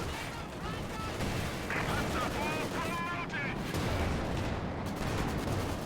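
A machine gun team fires in a strategy game, steady bursts of gunfire rattling under a continuous battle din, with a voice talking over it.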